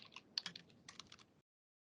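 Quick bursts of keystrokes on a computer keyboard, typed into a chat during a seminar on Japanese migrants in Western Australia, close and fairly quiet, then silence.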